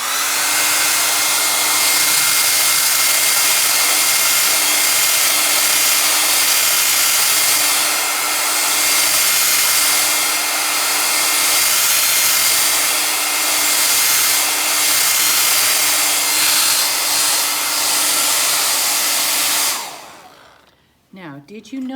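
Hair dryer blows steadily at close range to dry watercolor paint, a loud constant whooshing hum with a steady motor tone that runs for about twenty seconds before it cuts off.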